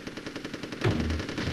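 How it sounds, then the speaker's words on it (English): Rapid machine-gun fire rattles in the Army Men: Sarge's Heroes video game, then a heavier explosive boom near the end of the short burst, with no talking. "Oh! I blew up the bridge!"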